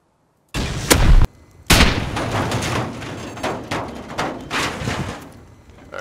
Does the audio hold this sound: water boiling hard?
no